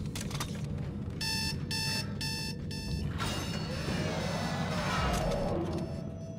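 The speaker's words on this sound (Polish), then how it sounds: "Bardzo dobre wykorzystanie budzika" Alarm clock ringing in the horror game Dead Space 2, four evenly spaced electronic beeping bursts, followed by a swelling noisy wash of game sound.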